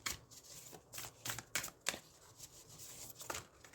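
A tarot-style card deck being shuffled for a pick-a-card reading, quick crisp riffling bursts of paper cards repeating in an uneven rhythm, close and fairly quiet with no talking.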